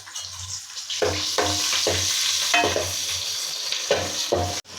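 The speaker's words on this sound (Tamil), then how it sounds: "சின்ன வெங்காயம் நல்லா குட்டி குட்டியாக வெட்டி தாளிக்காக போட்டாச்சு" Steady sizzling of chopped shallots frying in hot oil, with a rhythmic series of scraping stirs breaking through the hiss.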